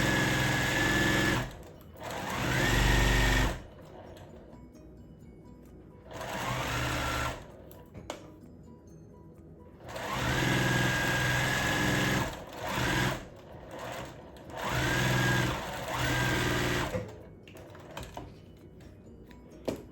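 A sewing machine runs in several steady whirring bursts as it stitches quilt block seams, each run lasting a few seconds with short pauses and light clicks between, close and prominent.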